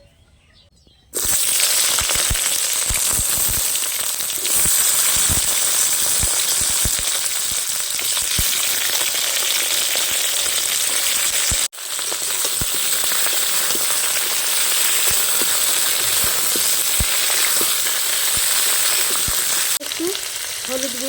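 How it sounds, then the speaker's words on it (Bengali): Potatoes and eggplant fry in hot oil tempered with bay leaf, a loud, dense sizzle that starts abruptly after a second of quiet and runs on steadily with one brief dip midway. "আলু বেগুনগুলো আগে ভেজে নিলাম না একেবারে ওই ফোড়নের মধ্যেই ভেজে নেবো"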